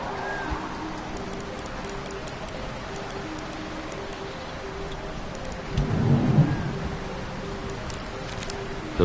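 Steady rain hisses throughout a virtual reality puzzle game, Retropolis 2, over soft game music, with a low roll of thunder swelling briefly partway through.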